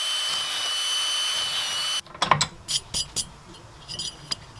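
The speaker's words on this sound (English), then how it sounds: "So I'm gonna just drill a bunch of random holes" Loud steady whirring of a power drill drilling holes, running continuously for about two seconds, then stopping, followed by scattered clicks and clunks of handling tools.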